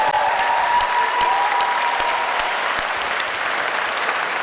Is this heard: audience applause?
yes